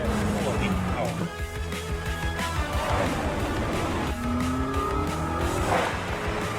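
A McLaren W1 supercar laps a race track, its engine roaring loud and continuous with rising and falling revs through gear changes, tires squealing in corners, while people talk over it.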